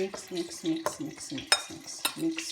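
Seasoned flour for crispy fried chicken being mixed in a bowl, a steady run of soft scraping, stirring strokes with occasional sharper clinks, close and fairly quiet with no talk.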